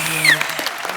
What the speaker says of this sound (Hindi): और उर्वशी की मम्मी जी के लिए और जोरदार तालियां